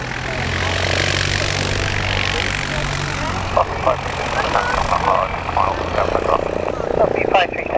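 A light aircraft at Cotswold Airport takes off from runway 09, its propeller engine droning steadily from a distance under radio chatter and nearby voices.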